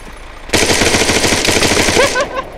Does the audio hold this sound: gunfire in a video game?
yes